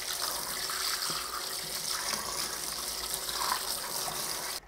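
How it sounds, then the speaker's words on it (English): Running water splashes and gushes steadily as soap and grime are rinsed off a Tri-ang Davy Crockett toy locomotive during restoration, a constant close hiss of flowing water that cuts off abruptly at the end. "I'm going to rinse this off"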